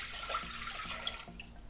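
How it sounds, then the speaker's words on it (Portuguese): Water with yeast is poured into a Thermomix bowl, a light, close trickling and splashing stream with faint gurgles, quiet and continuous. "E então começamos por colocar no nosso balde a água e o fermento."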